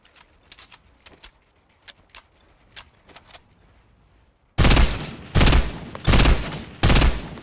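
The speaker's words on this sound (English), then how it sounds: "I want to kill him with a heavy shotgun." Heavy shotgun blasts in a video game: a few faint, sparse shots first, then four loud, booming blasts in a steady rhythm with short gaps, close and alone without talk.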